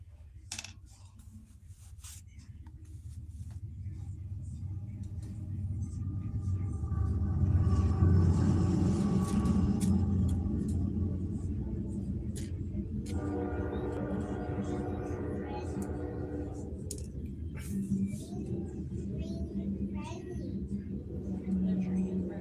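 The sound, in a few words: train passing by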